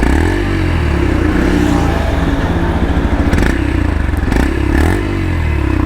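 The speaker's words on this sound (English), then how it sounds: "And I'll also show you the exhaust sound." Yamaha FZ-X motorcycle exhaust while riding at about 110 km/h, a steady grunty rumble with slight rev changes and wind noise, loud and continuous with no talking.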